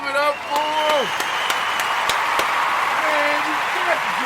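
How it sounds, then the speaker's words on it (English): Applause and cheering from a crowd honoring the Ujima group at a live toast event, sustained and fairly loud, with a voice talking over it at the start and again near the end. "I want to give a round of applause to all the Ujima babies out there."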